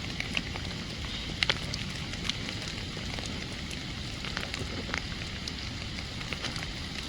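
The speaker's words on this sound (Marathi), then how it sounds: "पाऊस पण मजबूत पडतोय" Steady, dense hiss of heavy rain pouring down at night during river crab catching, with scattered sharp patters and crackles on nearby surfaces.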